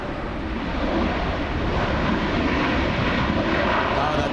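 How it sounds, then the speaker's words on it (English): A Boeing 737 MAX 8 jet in from Vancouver roars steadily and loudly at LAX, a broad continuous engine rumble with wind noise and a voice talking over it. "in from Vancouver, a 737 MAX 8"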